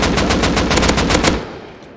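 Rapid automatic gunfire in the survival game Rust rattles loud and close in a fast, even burst lasting over a second, then cuts off and leaves a short fading tail. No one speaks.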